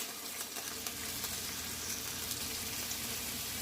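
Burger patties, a fatty juicy Lucy style, sizzle steadily in a pan, a dense continuous crackle with faint scraping ticks from the flip, close and alone with no talk.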